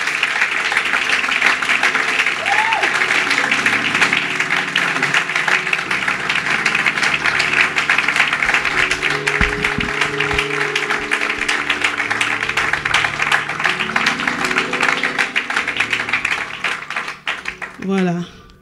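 A church congregation applauding a couple in a sustained, loud wash of clapping mixed with tonal music and voices, tapering off at the very end.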